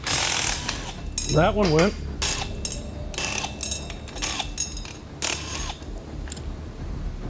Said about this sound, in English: We're not even getting the nut off, we're spinning the stud out.